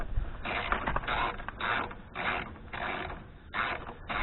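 A ratchet clicks in repeated bursts while rear shock bolts are tightened on a 2018 Chevrolet Malibu, each stroke producing a short rapid series of mechanical clicks with brief pauses between, close and fairly clear.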